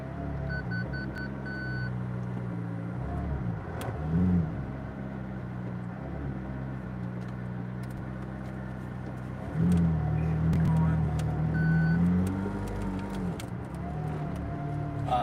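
A McLaren Senna backing up, its engine a steady low rumble close by that swells twice with brief bursts of throttle.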